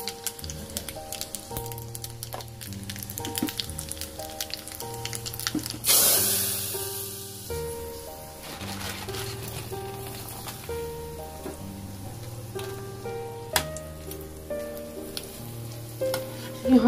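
Spices tempering in hot oil crackle and hiss on a home kitchen stove while steady music plays throughout, with a brief burst of louder sizzling partway through.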